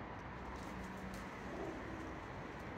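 A pigeon coos softly inside an abandoned church in Huddersfield, a few low, hollow calls over a quiet, faintly hissing room background.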